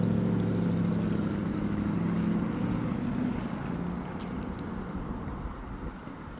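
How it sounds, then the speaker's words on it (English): A Porsche passes on a residential street, a mid-pitched engine hum that is strongest at first and then slowly fades as the car moves away, fairly quiet under light wind and background noise. "there's a Porsche come by right now"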